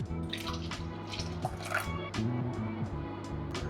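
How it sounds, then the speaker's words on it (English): Full fat milk pours into a bowl of beaten ingredients, a soft liquid trickle with small splashes and drips running under steady background music for a few seconds. "Now I'm going to add 200 milliliters of full fat milk,"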